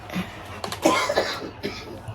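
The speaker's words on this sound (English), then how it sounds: "I made you cough, I'm sorry." A few sharp coughs, close by, scattered across a couple of seconds with brief pauses between them.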